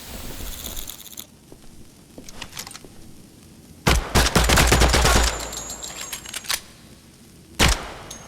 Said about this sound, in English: The bullets ricochet.